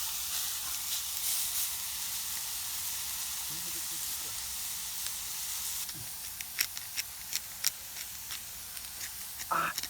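Food sizzles steadily while frying under a tarp at a rainy campsite, a continuous close hiss with scattered pops and crackles growing toward the end; a voice speaks briefly.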